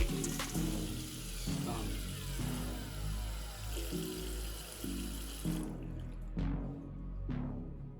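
Running water rinses ketchup and red wine off Yeezy sneakers treated with protector spray: a steady close splashing stream from a tap with repeated rhythmic surges, cutting off near the end, with no voices.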